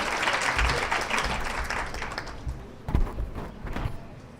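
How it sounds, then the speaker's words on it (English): Audience applause for a women's activism panel at a DC conference, loud dense clapping throughout with a few thumps and knocks standing out near the end. "Let's give them a round of applause."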